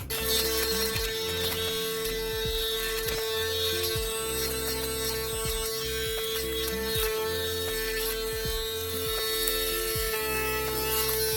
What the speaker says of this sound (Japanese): で髭剃りはいつも電動のやつを使いますね。